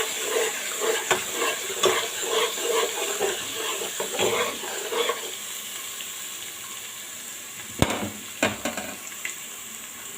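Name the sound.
onion frying and being stirred until golden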